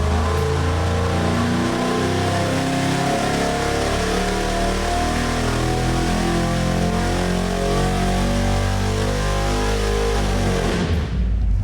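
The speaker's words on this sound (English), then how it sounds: "With our 408 Windsor stroker hooked up to the dyno, we're ready for our first run" A 408 Windsor stroker V8 runs on an engine dyno, roaring loud and steady at high revs for the whole stretch before cutting off abruptly at the end.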